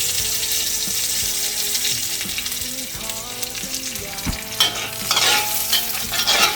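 Garlic and chili frying in a hot pan, a dense, loud sizzle with stirring scrapes throughout, mixed with a faint background hum and louder splattering bursts toward the end; no talking.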